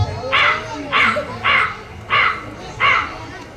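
Crow caws voiced in a school play: five evenly spaced harsh caws, loud and close, probably imitated by a performer's voice.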